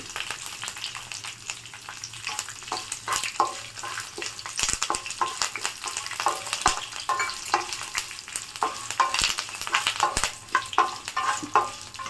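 Curry leaves and dried red chilies frying in hot oil while puliyogare gojju is made: a steady, close crackling sizzle with sharp pops and spits throughout, with no voices.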